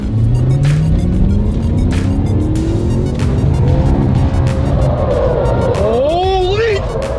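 A drifting car on a stunt ride-along with a stunt driver, heard from inside: a loud engine revving and climbing in pitch, then squealing tires toward the end, with voices talking over it.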